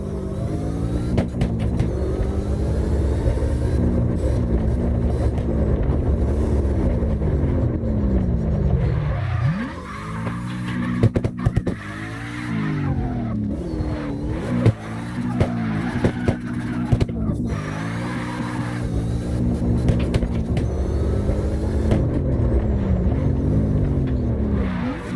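A drifting car in CarX Drift Racing Online, its engine roaring and revving steadily for a long stretch, with pitch rising and falling through throttle changes and gear shifts, loud and close, with no voices.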